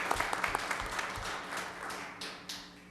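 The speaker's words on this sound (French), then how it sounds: "On peut lui donner une bonne main d'applaudissement." An audience applauds at a Montreal North council meeting: a steady patter of many hands clapping, fairly distant and moderately quiet, tapering slightly toward the end.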